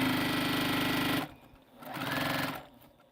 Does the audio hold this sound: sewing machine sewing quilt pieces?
yes